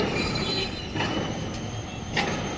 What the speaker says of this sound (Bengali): এই যে মেট্রোর কাজ হচ্ছে এত আওয়াজ হচ্ছে